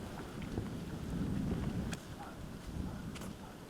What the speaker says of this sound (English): Wind picking up a little bit here.